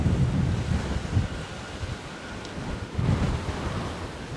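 Strong wind in a picnic garden roars and buffets the microphone, rising and falling in heavy gusts with no voices.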